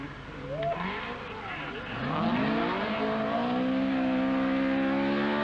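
A Talbot Sunbeam rally car driven by Henri Toivonen on a downhill rallysprint run, engine revving loud and close, rising then holding a sustained high drone, with a brief tire squeal as the rear swings wide.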